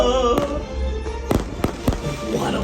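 Fireworks going off, several sharp loud bangs spaced irregularly over a couple of seconds, close and punchy against a droning background.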